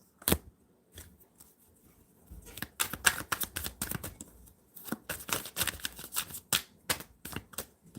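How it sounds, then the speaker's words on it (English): Tarot cards are shuffled in quick, crisp bursts of riffling and slapping close by, with short pauses between rounds and no talking. "All that crazy shuffle there, that didn't come out."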